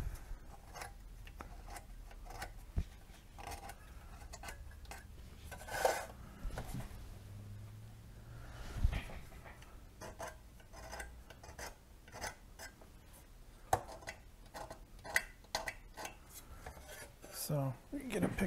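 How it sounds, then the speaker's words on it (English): An X-Acto knife scraping corrosion off transistor leads on an HP3314A signal generator, a run of quiet, rapid rasping scrapes in short bursts, with speech heard at times. "a quick way to do that is just to run an X-Acto knife and scrape the leads."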